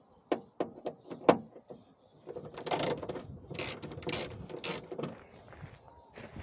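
Tight M8 bolts on a Volkswagen Golf Mk4 door lock module being loosened with a ratchet: a few sharp clicks and creaks, then a busier run of metallic ratcheting and scraping, close and moderately loud.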